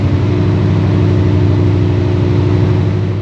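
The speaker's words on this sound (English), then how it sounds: "Going up the hill, the diesel engine was unsurprisingly working hard." The diesel engine of an Adelaide hybrid suburban train labours steadily as it climbs a hill, a loud, continuous low throbbing drone with a pulsing beat and no talk over it.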